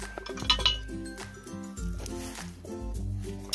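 Heavy Dutch oven lid being turned on its pot while baking bread off-grid, a few close metallic clinks and scrapes in quick succession, with a low rumbling background underneath.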